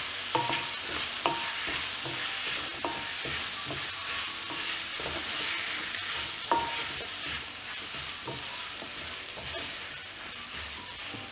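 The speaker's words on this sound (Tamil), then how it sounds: "இப்போ வந்து நம்ம உருளைக்கிழங்கு ஆட் பண்ணிட்டு ஃப்ரை பண்ணிடலாம்" Potatoes stir-fried in a pan for a quail egg and prawn curry give a continuous soft sizzle, with a spatula scraping and tapping the pan at irregular intervals; no talking.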